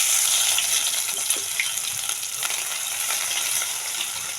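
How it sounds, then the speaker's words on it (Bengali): Chopped garlic frying in hot oil in a pan makes a bright, continuous sizzle with a few soft crackles, close and steady, with no talking. "দেখো এতে আমি এবার একটু রসুন কুচি দেব ওই তেলেই।"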